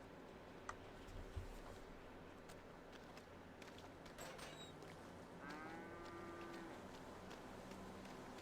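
A cow on a farm in a FiveM roleplay game gives one drawn-out moo near the end, over a steady farmyard background with a few faint clicks.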